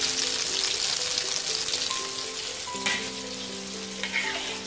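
Steady, dense sizzling of an egg omelette with green beans frying in a hot pan, continuous and close, with a few faint clinks partway through.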